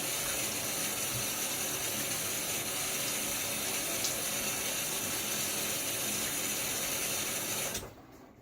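Tap water runs steadily into a sink while rinsing during a wet shave with a Blackland Dart razor and Wilkinson Sword blade, a continuous close hiss that stops abruptly near the end.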